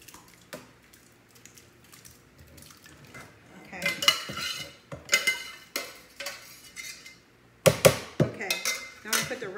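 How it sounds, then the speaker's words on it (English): Spaghetti sauce stirred into pasta in a pot, with bursts of loud metal clanking and scraping from a utensil against the pot, irregular and close, separated by quieter pauses. "Okay, I'm gonna put it in with the spaghetti."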